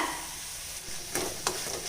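Flat beans (avarakkai) with grated coconut sizzle and crackle in a hot pan while a utensil scrapes and stirs, with a couple of sharp scraping strokes near the end.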